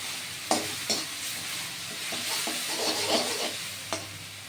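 Dried red chillies fry in a pan with turmeric, giving a soft continuous sizzle broken by a few scraping stirs of a spatula against the pan.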